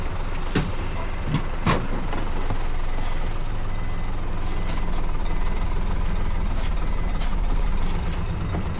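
A truck reverses slightly to couple a trailer, its engine idling in a steady low rumble, with several sharp mechanical clicks and clanks over it up close.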